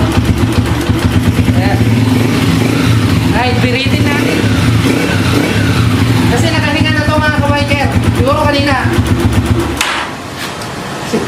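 A motorcycle engine idles and revs repeatedly after a throttle cable repair, its loud rhythmic putter rising and falling close by, with people talking over it and the engine easing off near the end.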